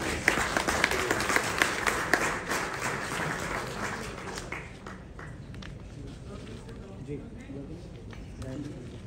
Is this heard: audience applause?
yes